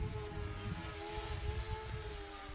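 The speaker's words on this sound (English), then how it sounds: "Someone's got a drone." A drone flying overhead at the Windgather hill climb gives off a steady, whining buzz with a sustained tonal hum above low outdoor wind rumble, and no one speaks.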